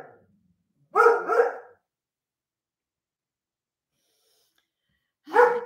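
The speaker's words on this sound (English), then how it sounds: "That bark would scare anyone off" A dog gives a quick double bark up close, then silence, then another single bark a few seconds later.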